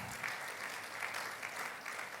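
A church congregation at a Sunday worship service claps, a faint, distant, steady patter of hands lasting a couple of seconds.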